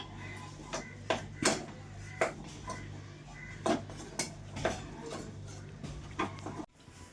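A jackfruit dish being stirred in a pot after coconut oil is added, with a series of irregular metal scraping and clinking knocks from the spoon against the pot over a steady low hum.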